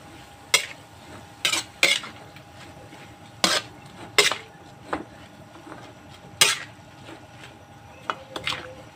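Bean sprouts with a little soy sauce are stirred in a pan, a utensil scraping and clacking against the metal in about nine sharp, irregular strokes over a faint steady sizzle, with no talking.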